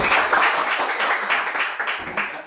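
Short burst of classroom applause during a geography lesson, uneven clapping from a group of students with faint voices mixed in.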